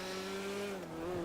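A Grotti sports car engine in the video game GTA 5 holds a steady, droning whine with a slight pitch sag partway through, fairly faint and continuous, with no voices.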